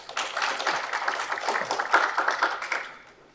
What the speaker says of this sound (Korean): 여러분의 큰 관심과 또 힘찬 박수 부탁드리겠습니다